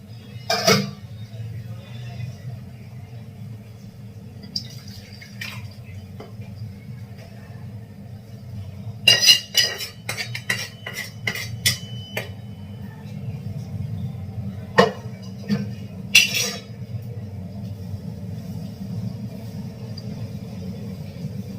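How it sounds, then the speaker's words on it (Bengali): Pots, pans and serving utensils clatter in a home kitchen as rice is set to cook and fish curry is dished out, with sharp clusters of metallic clinks and knocks over a steady low rumble. "ভাত বসিয়ে দিলাম আর মাছের ঝোলটা রান্না তো হয়ে গেছে বেড়ে নিলাম"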